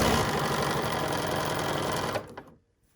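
A sewing machine stitches a reversible bag in a fast, loud, even whir that stops abruptly near the end.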